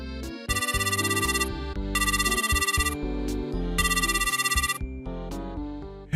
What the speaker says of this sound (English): that day at night, I got a phone call from Kazuki.